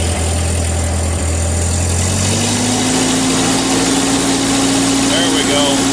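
A loud, close engine climbs from a rough idle to a higher, steady rev partway through, its pitch rising and holding as the throttle opens.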